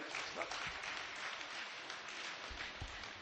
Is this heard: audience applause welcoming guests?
yes